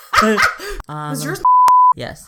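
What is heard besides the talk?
censor bleep over a spoken phone number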